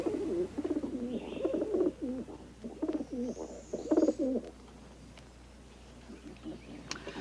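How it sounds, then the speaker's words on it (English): A racing pigeon coos close by in a series of low, throaty, rolling calls repeating in bursts, then quiets to soft background ambience. "This is a racing pigeon."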